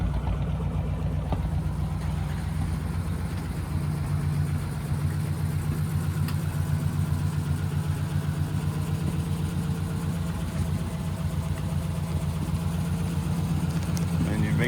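A 1940 Ford Deluxe convertible engine idles steadily and close by with a low, even rumble throughout, while a person talks over it.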